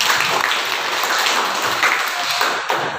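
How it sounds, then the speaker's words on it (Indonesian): A classroom of children applauds a student who answered a question: close, dense clapping from many hands, steady throughout the short stretch. "Kasih dulu tepuk tangan."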